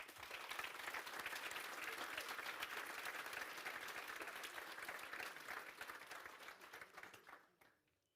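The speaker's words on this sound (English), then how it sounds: "So big round of applause for our panelists." A conference audience gives panelists a big round of applause after a discussion on artificial intelligence and big data in risk, steady and full for several seconds before thinning out and fading to quiet.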